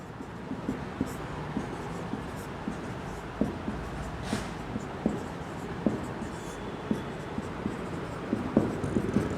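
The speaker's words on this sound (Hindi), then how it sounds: "नोट डाल के लिख रहा हूं मैं" A pen scratching out notes on paper, close and steady with irregular tapping strokes, while someone speaks softly in the background at times.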